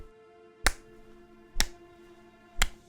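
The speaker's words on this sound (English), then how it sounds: "I hear someone clapping." Three sharp percussive claps from a video game, evenly spaced about a second apart, loud and close over a steady low musical drone.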